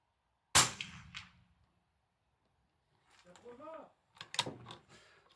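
A single sharp suppressed gunshot from a silenced firearm under test, loud and close with a short ringing tail, followed a few seconds later by voices talking and some metallic handling clicks.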